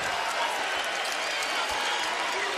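A basketball crowd at an NCAA men's conference quarterfinal between UNLV and Utah State applauds in a thick, continuous roar of clapping and cheering, loud and steady throughout.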